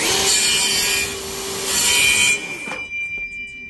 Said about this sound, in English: so we're going to trim the ends up by 36mm and then just re-dowel them